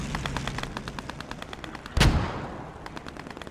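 Gunfire in the Post Scriptum video game, a rapid string of automatic shots in steady rhythm with a single louder, heavier blast near the middle, all fairly close and loud.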